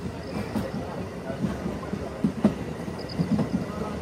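A MEMU passenger train on the Tirupati to Tiruvannamalai line gives a steady rumble with soft rhythmic wheel clatter, heard from on board.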